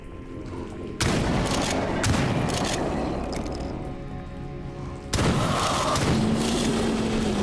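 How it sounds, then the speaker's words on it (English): Loud gunfire in the video game Stalker Gamma in an underground main chamber: dense bursts of shots and booms that cut in sharply, go on steadily, pause briefly and then resume hard, with no talk. "Finally, I reached the main chamber and was met with gunfire"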